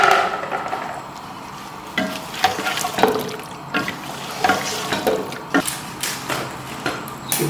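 Finely chopped potatoes added to biryani masala frying in a pan, with sizzling and repeated scraping stir strokes in an irregular rhythm, close and moderately loud, no voices.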